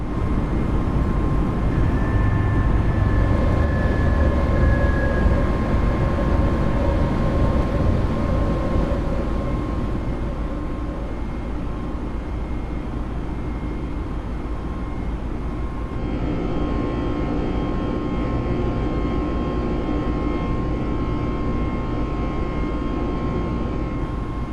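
An Airbus A320neo in JetBlue livery roars through a long-haul takeoff and climb in Microsoft Flight Simulator. The jet engine noise is steady and loud throughout, with faint tonal whines over the rumble, and no one speaks.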